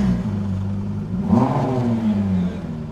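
A Ford car engine revs up as driving begins, a steady mid-range drone that swells to a louder accelerating surge midway and then settles, heard up close with no talking.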